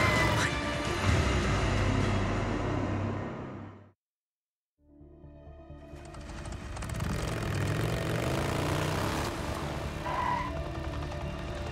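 A helicopter flying in the game Days Gone gives a steady, loud, broad rotor roar that cuts out completely for a moment, then swells back to a sustained drone.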